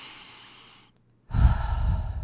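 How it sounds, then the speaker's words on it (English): A deliberately exaggerated breath, heard close and loud: a long airy exhale fades into a short silence, then a strong, rough inhale follows. "I had to over-exaggerate so you could actually hear me breathing"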